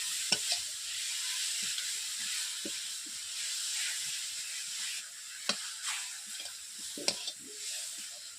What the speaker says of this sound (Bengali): বন্ধুরা এইভাবে আমি নেড়ে পুরটাকে আমি তৈরি করে নিচ্ছি। নারকেল কুড়ো আর গুড় দিয়ে